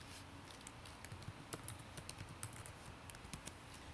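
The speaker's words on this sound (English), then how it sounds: "Type in your email address and the password that you've set" Quick, uneven keystrokes on a computer keyboard as an email address and password are entered for a login, soft and close with small bursts of clicks and brief pauses, no talking.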